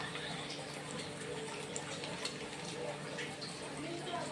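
Eggs frying in oil in a pan for a Telugu-style egg curry, a soft steady sizzle with faint stirring scrapes running throughout, close and moderately quiet with no talk.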